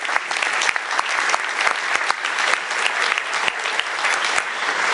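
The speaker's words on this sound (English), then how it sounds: "let's give a round of applause" Steady, dense applause from an audience at a keynote introduction, a loud continuous roar of many hands clapping held evenly for several seconds without speech.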